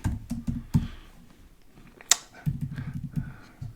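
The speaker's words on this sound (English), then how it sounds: "my typing is awful" Fast, uneven keystrokes on a computer keyboard, clustered in short bursts with brief pauses and one sharper key hit, close and moderately loud with no talking.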